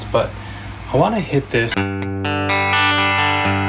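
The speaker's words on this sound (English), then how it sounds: "And here's our tube screamer on, our EQ is off." Electric guitar played through a Tube Screamer overdrive pedal on a Line 6 Helix modeler: someone speaks briefly, then a loud, sustained overdriven chord rings out and is struck again.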